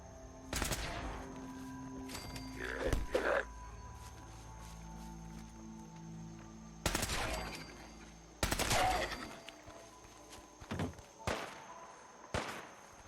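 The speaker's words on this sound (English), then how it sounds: "Who are you shooting at there?" Gunfire in the Fallout 4 video game: sharp bursts of rapid shots in separate volleys, loud and close, with quieter gaps between them.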